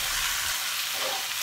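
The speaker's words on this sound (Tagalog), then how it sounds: "Mas maganda po kasi isinasama ang curry powder sa ating chicken habang ginigisa." Chicken sautéing with curry powder and annatto in a hot pan, a steady close sizzle throughout.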